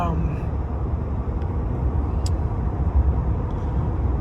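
A truck engine droning steadily on the road, a continuous low rumble close to the cab with faint road noise.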